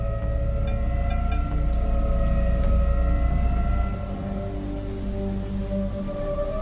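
Steady night rain falls over a low drone and faint tonal hum, the downpour continuous and fairly loud throughout, easing slightly toward the end.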